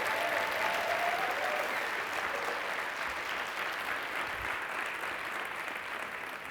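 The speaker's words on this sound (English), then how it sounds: "So a big round of applause for Rafaela and Alexia" A large audience claps steadily for speakers at a talks event, a dense, even wash of applause that holds for several seconds, heard from within the room.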